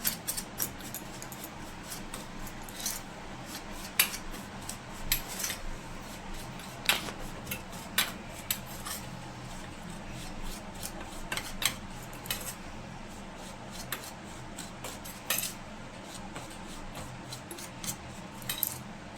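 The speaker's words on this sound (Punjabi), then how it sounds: "ਹੁਣ ਅਸੀਂ ਮਸਾਲੇ ਨੂੰ ਮਿਕਸ ਕਰ ਲਾਂਗੇ ਚੰਗੀ ਤਰ੍ਹਾਂ" A spoon mixing pickle masala spices in a bowl for stuffed eggplant, giving frequent light metallic clinks and scrapes in an irregular rhythm over a quiet, muffled background.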